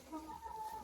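Hens clucking softly as loose hay is scattered for them to scratch through in a winter coop, a low continuous murmur of fowl close by.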